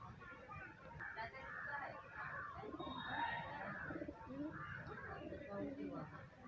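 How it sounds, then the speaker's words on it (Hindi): Several pigeons coo in soft, repeated throaty calls, heard close but quietly, with people talking in Hindi over and between the cooing. "ये चार कबूतर तो कम हो गए हैं"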